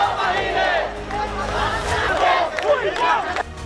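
An angry crowd of rioters storms the prime minister's residence in Dhaka, Bangladesh, right after Sheikh Hasina leaves the country. Many voices roar and shout together in a loud, steady, close-up din that swells in waves.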